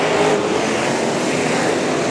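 Figure 8 race cars roar around the Indianapolis Speedrome track in a loud, continuous engine wash with no pause.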